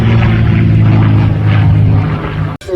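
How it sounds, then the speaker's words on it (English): Propeller airplane flying over at the Headcorn Battle of Britain air show, a loud steady engine drone with strong low harmonics that holds for over two seconds before cutting off abruptly. "Airplane flying over."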